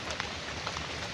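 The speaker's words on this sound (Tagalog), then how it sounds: "Umulan pa rin pero kaunti na lang." Light rain falls outdoors, a soft, faint patter of scattered drops over a low background hiss, with a few slightly sharper taps standing out in the brief stretch.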